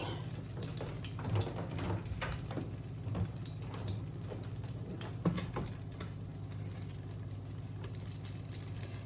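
A faint, steady sizzle of ramps frying in bacon grease, a soft continuous crackle with a few tiny pops and no talking.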